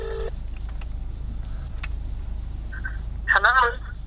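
Phone keypad tones from a contestant dialing out on a telephone in the Australian Survivor 2024 jury villa, a short electronic tone burst at the start and a few faint beeps later, over steady room hum.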